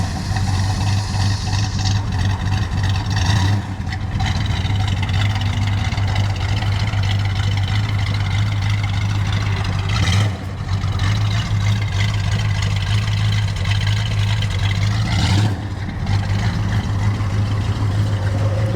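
A 1969 Plymouth Barracuda's engine rumbles steadily as the car pulls away, a loud low drone that swells briefly a few times as the driver shifts.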